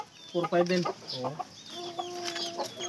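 Several Aseel and Shamo chickens cluck and squawk close by in short bursts, while a person speaks briefly among them.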